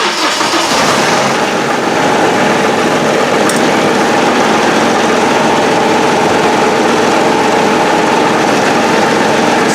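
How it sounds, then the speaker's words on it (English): A zero-turn lawn mower engine runs steadily and loud from start to finish, a constant close mechanical drone with no pauses or talk. "So now that it's started, what we're going to do to actually use it, we're going to speed up the engine a little bit."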